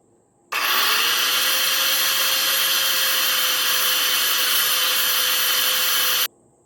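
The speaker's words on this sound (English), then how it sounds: "We're just gonna grind a little bit here." Angle grinder wearing down a wooden axe handle outdoors, a continuous loud whine with a steady tone that lasts about six seconds, starting and stopping abruptly.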